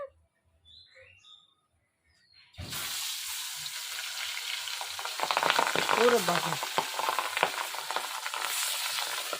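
Pabda fish dropped into hot oil in a village Bengali kitchen sets off a sudden, loud, steady sizzle and spatter that runs to the end. Birds chirp faintly beforehand, and a voice exclaims briefly during the frying.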